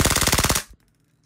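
A WE Raptor V3 gas blowback airsoft rifle fires a fast, loud full-auto burst of about a dozen evenly spaced cracks at close range, then stops abruptly into near silence.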